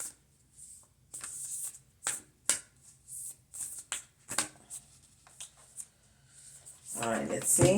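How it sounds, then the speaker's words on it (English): A deck of playing cards shuffled by hand in a quiet room, giving repeated quick papery riffles and snaps in short bursts, with a louder rustling flurry at the end. "let's see if we can shuffle these cards a little better"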